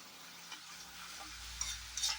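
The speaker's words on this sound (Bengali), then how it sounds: "একটুখানি জিরে লঙ্কা খড়াবো" Cumin seeds and chilli frying in a pan for a mashed potato dish give a soft, steady sizzle with faint stirring scrapes and a few brighter crackles near the end.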